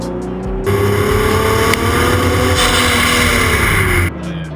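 A Nissan 370Z accelerates in third gear on a wet road, its engine note rising loud and steady for about three and a half seconds from inside the car before easing off.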